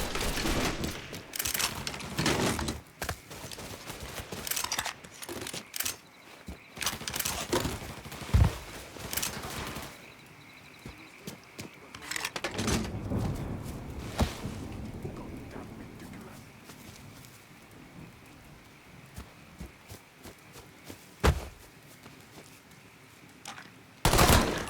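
Gunfire in a Mafia III shootout in a swamp: scattered volleys of shots and bursts spread through the whole stretch, some close and sharp, others further off, with shouted voices mixed in.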